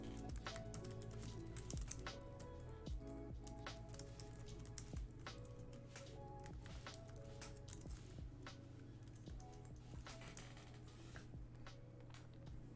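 Rapid, steady clicking of fingers typing on a computer keyboard continues throughout, close and quiet, with irregular key taps over a low background hum and no talking.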